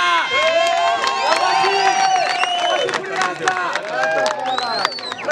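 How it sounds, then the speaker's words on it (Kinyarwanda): A lively crowd cheers, whoops and shouts with applause for Rasta at an award event in Rwanda. The noise is loud, continuous and close, with many overlapping voices. "Amashyi kuri Rasta."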